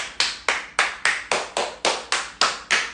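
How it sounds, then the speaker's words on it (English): One person claps hands in a steady rhythm, ten sharp, close claps evenly spaced about a third of a second apart, each with a quick decay, and no voices. "let's clap our hands"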